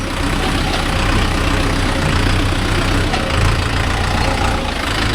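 A Mahindra Yuvo Tech Plus 585 4WD tractor runs steadily with a loud, close, low diesel rumble and no talk, hooked to a five-tine cultivator.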